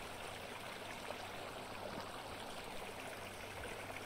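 Flowing water in the video game Vintage Story, a continuous soft babbling trickle like a small stream, steady and fairly quiet.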